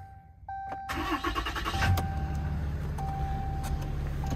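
Diesel engine of a lifted 2014 Ram 2500 Laramie Mega Cab 4x4 with a 6.7 Cummins and aftermarket intake cranks and fires after a brief chime, then settles into a steady, loud, close idle with a deep rumble.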